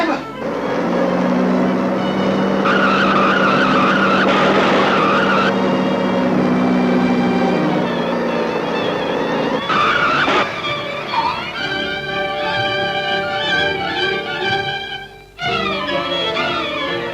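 A car screeches its tires and speeds away near an accident scene, loud squealing and engine roar that shifts pitch and fades before a second squeal, with shouting voices mixed in.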